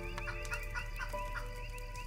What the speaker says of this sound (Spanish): Porque tiene 9 gallinas.